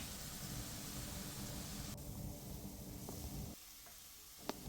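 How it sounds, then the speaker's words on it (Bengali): Chopped tomato and onion fry in a pan, giving a steady close sizzle that thins out partway through, with a single sharp clink near the end and no talking. "এই দুটোকে ভালো করে নাড়িয়ে নেব একটু ভাজা ভাজা হয়ে গেলে"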